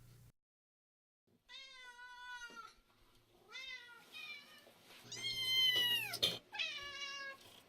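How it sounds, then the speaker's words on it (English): Fluffy black and white kittens in a yoga studio mew repeatedly in short, high, clear calls, several distinct meows separated by brief pauses, fairly close and alone without talk. "4 fluffy black and white kittens are unleashed upon the studio to a chorus of ahs"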